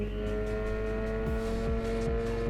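Mean-sounding car engine in the No Hesi racing game, a steady sustained drone with strong low harmonics and a slight muffled quality, continuous and loud throughout.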